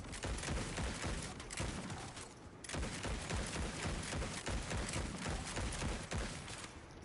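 Dense, continuous gunfire in Borderlands 4, a steady roar of overlapping shots with a brief dip partway through, loud and close with no talk.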